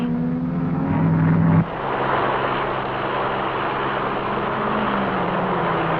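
A 1957 racing car at the Sebring 12 Hours, a loud engine drone holding steady, then dropping in pitch and settling into a broad roar through the chicane, old-film quality with no talk.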